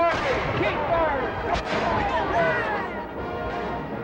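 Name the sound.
gunfire at Civil War battle reenactment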